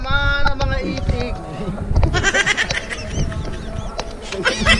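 Ducks quacking in a busy, noisy setting, with repeated nasal calls rising over a dense background of chatter and clatter; people talk throughout.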